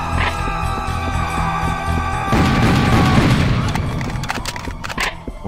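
Rocket explosions in Serious Sam burst in after a humming, tonal stretch as a dense run of heavy booms and blasts that stays loud, then thins into scattered sharp hits.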